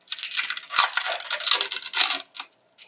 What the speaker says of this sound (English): I'm going to start pulling the balloon out so I can get a hold of it